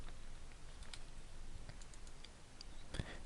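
A few faint, sharp computer mouse clicks, the clearest one near the end, sound alone in a quiet room while a Continue button is pressed in Moodle course-backup software.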